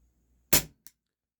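A single sharp shot from a Taurus PT 24/7 G2 6mm CO2 pistol firing a 0.30 gram aluminum BB, a crisp near pop followed by a faint brief tick shortly after, with silence around it.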